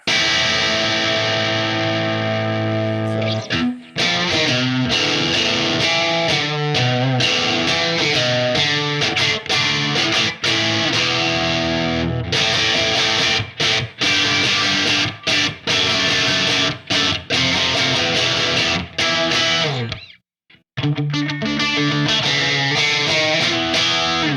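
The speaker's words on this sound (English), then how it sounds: "He would have a full-on distortion sound, which would be something like this." Loud, heavily distorted electric guitar plays chugging rhythm chords with brief stops, a short silent gap near the end before it resumes.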